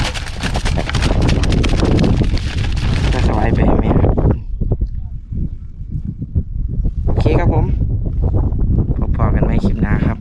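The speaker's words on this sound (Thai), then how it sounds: "ลมมาครับ" Strong wind gusts across a fishing spot at a reservoir, roaring and buffeting the microphone loudly before easing into lighter gusts and swelling again.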